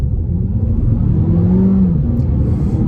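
A 2020 Seat Leon with 150 hp and 250 Nm pulls away in D mode, its engine giving a steady, loud rumbling drone with a rising tone near the middle. No talking.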